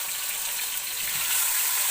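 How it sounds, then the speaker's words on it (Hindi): Chopped tomatoes fry in a pan for egg gravy, giving a steady, close hiss of sizzling oil that swells slightly louder toward the end. "अब टमाटर को थोड़ी देर भून लेंगे"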